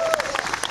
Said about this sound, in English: Somebody give the Lord a hand clap.